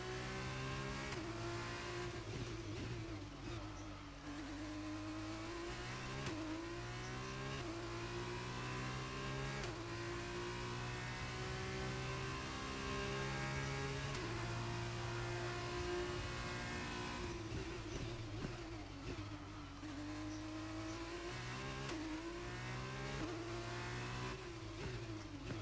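An F2 race car engine lapping the Baku street circuit in F1 22, with a continuous high revving whine that rises and drops through gear changes and braking, loud and steady with no talk.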